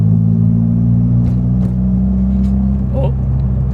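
A Honda Prelude with a failing transmission pulls hard in second gear, its engine a loud, continuous low drone that stays close and steady throughout.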